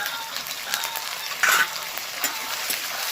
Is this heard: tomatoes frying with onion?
yes